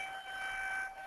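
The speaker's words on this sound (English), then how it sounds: "this is our weekly Wednesday tornado siren test" A weekly Wednesday tornado siren test, the outdoor civil defense siren holding a faint, distant steady wailing tone with no other sound over it.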